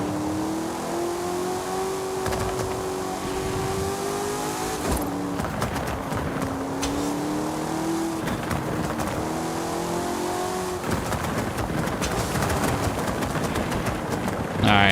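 A Nissan retro race car in Forza Horizon 5 revs hard on dirt, the engine note rising and falling through repeated gear changes, with crunching bursts of impacts as it loses grip.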